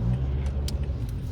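A learner's car pulls onto a main road in Toronto during a driving lesson, its engine a steady low rumble with faint clinks over the top, a brief close burst of road and motor noise.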